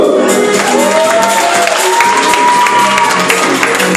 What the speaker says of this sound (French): nous applaudissons tous ces misters et Nyon